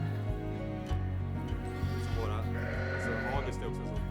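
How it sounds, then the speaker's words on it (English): Sheep and lambs bleat repeatedly in a pen, several animals calling close by in overlapping wavering cries over a steady low background hum. "They have a ton of animals, but what we specifically came here for is the sheep."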